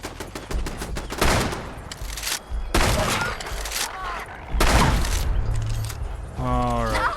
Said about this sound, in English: But this shotgun's good enough on its own.